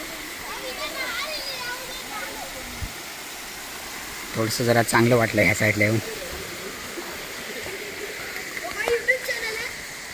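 A small waterfall on Mumbra hill sends water falling in a steady, broad rush throughout, while people talk nearby and a louder burst of voices rises midway.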